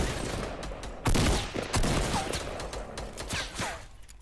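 Rapid shotgun and pistol fire in a shooter video game, a chaotic run of loud, sharp blasts with heavier booms near the start, close and continuous.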